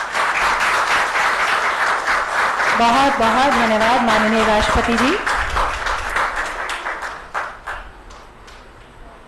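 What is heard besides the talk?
loud applause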